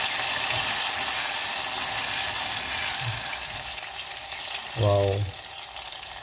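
Malaysian pisang goreng, banana fritters, frying in hot oil with a steady, close sizzling hiss throughout; a short exclamation from a voice briefly rises over it near the end.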